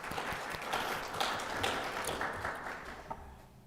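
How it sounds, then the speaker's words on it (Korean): A church congregation at Sunday worship claps in welcome for visitors, moderately quiet, with individual claps audible within the patter, fading toward the end. "박수로 환영하겠습니다"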